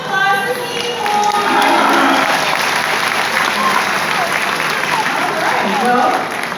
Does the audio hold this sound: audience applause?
yes